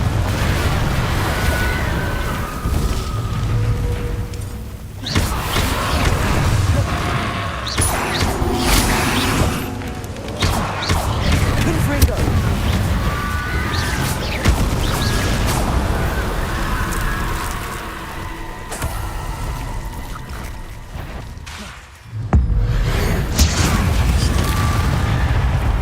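Confringo spells blast in Hogwarts Legacy, a steady run of fiery booms, crashes and whooshes over loud, continuous game sound that barely lets up for the whole stretch.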